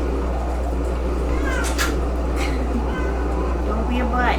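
A cat meows a few times nearby during a tabletop role-playing game session, the rising cries standing out over steady low hum and people talking.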